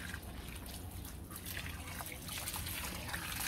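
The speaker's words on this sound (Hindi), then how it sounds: "अब हम पानी दे देते हैं अच्छी तरह से" Water trickles steadily onto a potted garden plant during watering, a soft continuous pour with faint splashing, fairly close and without speech.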